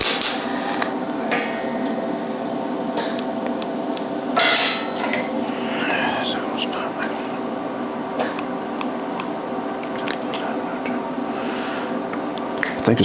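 A dent puller's weld tip zaps against a body panel in short bursts of crackling, sputtering welding noise, with sharp clicks and metallic clatter between them and a steady buzz underneath.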